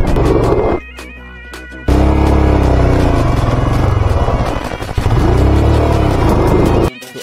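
Loud car engine straining on an off-road mountain track while the vehicle is stuck, heavy continuous revving with a brief dip and two short cut-outs, close and dominant throughout.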